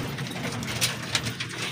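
Racing pigeons coo softly and steadily just after being fed a mix of golden powder and malunggay, a low murmuring flock sound with faint background noise and no talk.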